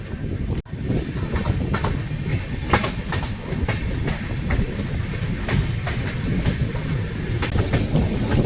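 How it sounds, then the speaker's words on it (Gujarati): The Surat Mahuva Express running on rails near Savarkundla, heard from inside the train as a steady, loud rumble with repeated clickety-clack of wheels over rail joints. "આપણી ટ્રેન સાવરકુંડલા રેલવે સ્ટેશને પહોંચી છે."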